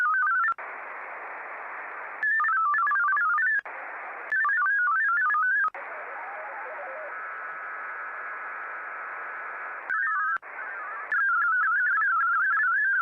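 Narrowband digital radio data tones warbling over a hiss of static, switching between faster and slower modes in blocks separated by brief drops.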